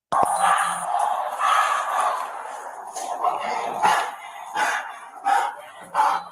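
Police dogs bark in repeated sharp bursts, roughly seven or eight barks spaced unevenly over several seconds, close and fairly loud against a noisy background during an arrest at a man's home.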